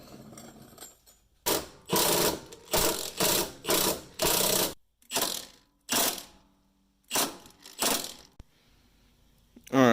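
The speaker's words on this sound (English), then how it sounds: "using our 5/8 impact, we were able to get these two off and then loosen this other one" A 5/8 impact wrench hammers loose bolts on a Jeep TJ while fitting rock sliders, giving a string of loud, close rattling bursts of about a second each with short pauses between them, and no talking.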